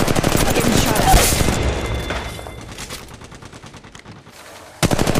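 Rapid automatic gunfire in the mobile shooter Apex Legends Mobile, a loud rattling burst that tapers into scattered distant shots, then a sudden sharp volley at the end.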